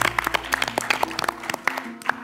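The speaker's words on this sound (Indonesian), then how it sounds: "tepuk tangan semuanya" Studio audience on an Indonesian quiz show gives a round of applause, a dense patter of claps with sharp individual hits and some cheering, heard fairly close and continuing steadily for a couple of seconds.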